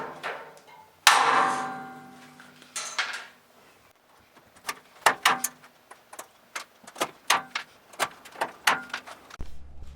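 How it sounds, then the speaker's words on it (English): Pneumatic rivet gun fastening rivets into a metal panel: a sharp burst near the start, then a run of about a dozen crisp, close percussive pops at uneven intervals, with no talk. "Let's have a go with the rivet gun."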